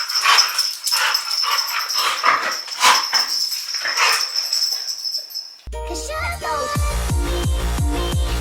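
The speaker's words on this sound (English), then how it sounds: "The dogs are going wild this morning." Dogs bark, yip and whimper excitedly in the morning in a burst of close, lively calls for several seconds, then the barking gives way to music.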